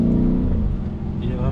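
A Lamborghini Urus SUV rolls slowly, its engine a deep, steady low rumble up close, with someone speaking over the sound.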